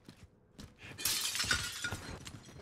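Glass shatters in the Black Ops Cold War Warzone video game: a sharp, bright crash with tinkling fragments that scatter and fade over the next second, among light footsteps and game sounds.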